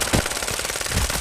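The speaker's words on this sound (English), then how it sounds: "They're shooting at me." Automatic gunfire in the Apex Legends Mobile battle royale game, rapid dense bursts of shots crackling steadily throughout, close and loud with no speech.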